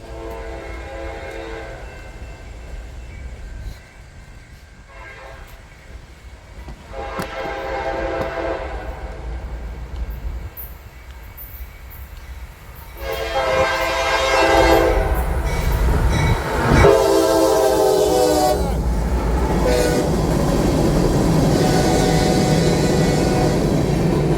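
A CSX local freight train rolling past in Lapeer, starting with a low rumble and wheel noise, then loud horn blasts that grow closer and stronger over a heavy, continuous roar of rail cars.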